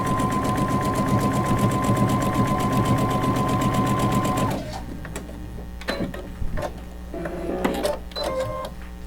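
A sewing machine runs steadily for about four and a half seconds, stitching the first open seam of a patchwork quilt, then stops, leaving scattered small clicks and handling noises.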